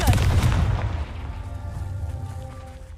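A Confringo fire spell explosion in Hogwarts Legacy opens with a loud booming blast. Its rumbling tail fades gradually over a few seconds.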